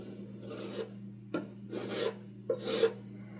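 Dried pink spackle being sanded smooth on a wall, heard as three soft raspy rubbing strokes with short gaps and a brief tap between them, close and fairly quiet over a steady low hum.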